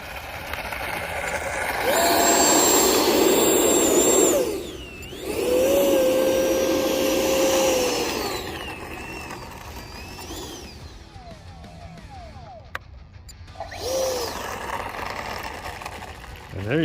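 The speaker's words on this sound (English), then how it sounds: "And there you go, thrust reverse." An FMS 64mm Rafale RC jet's ducted fan engine in thrust reverse, a loud close whining roar that swells, dips briefly, rises again, then winds down and spools back up near the end.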